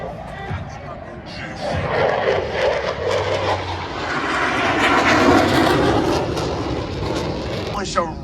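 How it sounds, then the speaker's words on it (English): Blue Angels jets in right echelon formation make a parade pass at an air show at 378 miles per hour, a broad, steady jet roar that swells toward the middle and holds under a commentator's voice. "From the right, at 378 miles per hour, the Blue Angel Echelon Parade."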